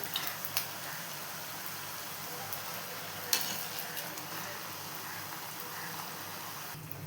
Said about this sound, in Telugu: దీన్ని కొంచెం మీడియం ఫ్లేమ్లో పెట్టుకొని వేయించుకోవాలి